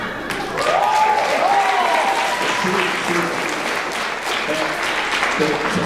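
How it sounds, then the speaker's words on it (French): Sustained applause fills a hall at a student talent show, many people clapping steadily at a loud level, while a voice and crowd noise cut through in places. "J'aimerais ça qu'on t'applaudisse."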